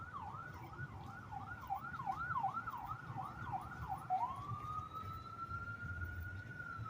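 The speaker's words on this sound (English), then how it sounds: "And now we got an ambulance pulling in." An ambulance siren wails nearby on the Las Vegas Strip in a rapid rising-falling yelp, then shifts into a long sustained tone over low traffic rumble.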